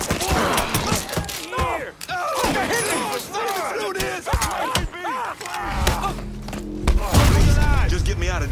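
A gun is reloaded in the Mafia III video game, giving brief mechanical clicks and ratcheting clacks scattered through busy combat chatter and shouting, with a low rumble building near the end.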